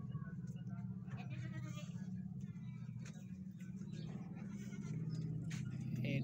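A goat bleats amid steady chatter and a low engine-like rumble, with the animal's calls partly buried under the surrounding voices and noise.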